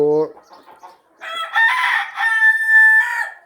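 Farm chickens and a rooster: a brief cluck at the start, then loud, close crowing calls that rise and hold, with clucking hens around.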